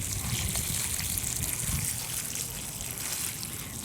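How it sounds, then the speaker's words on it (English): Water poured from a hose onto the roots of newly planted shrubs such as a crape myrtle, a steady close trickling and splashing that continues throughout. "We're just giving everything a really nice drink of water down at the roots"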